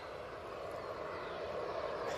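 Emirates Airbus A350 airliner at Manchester Airport, a steady broadband jet roar heard from a distance, even in level for a couple of seconds.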